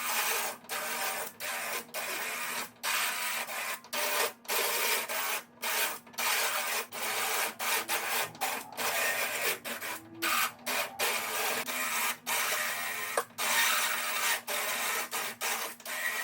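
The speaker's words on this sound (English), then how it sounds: "My idea of grinding the hole bigger and getting the socket inside really worked." Grinding out a hole on a Tesla Model 3 suspension part, a steady, harsh abrasive buzz that runs for long stretches and breaks off in frequent short pauses, close and loud with no talking.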